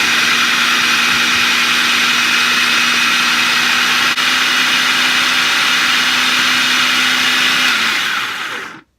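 Countertop blender running continuously at high speed as it purees black beans into brownie batter, a loud, steady whirring motor drone with a constant hum that holds for about eight seconds before cutting off and spinning down.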